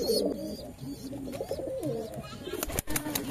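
Pigeons coo in a loft, their low rolling calls repeating close by with a few wing flutters and scuffles among the birds.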